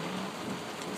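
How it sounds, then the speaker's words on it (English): Steady rain falling outside a parked car, a dense continuous hiss of drops drumming on the surface, even and moderately loud for the whole moment. "We're getting rain, which is great."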